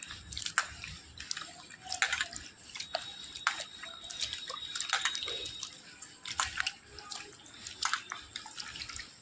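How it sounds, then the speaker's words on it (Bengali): Water splashing and dripping as mangoes are washed by hand in a basin of water, with irregular close splashes and trickles throughout, no talking. "আমগুলোকে আবারও ভালো করে ধুয়ে নেব"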